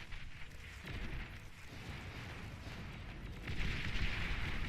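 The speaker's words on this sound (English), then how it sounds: "We finally get to see these ballistas in action. They're huge missiles." Huge ballista missiles firing in the strategy game Beyond All Reason, a dense roaring barrage of booming launches and blasts that swells louder toward the end, with no talk.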